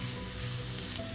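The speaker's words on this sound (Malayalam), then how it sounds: "വെണ്ടയ്ക്ക ചേർത്ത് ഫ്രൈ ചെയ്തിട്ട് വെണ്ടയ്ക്കയും കൂടി ചേർക്കാം" Okra (lady's finger) frying in a pan for a Kerala-style mappas curry, giving a steady close sizzle with faint stirring, no voices.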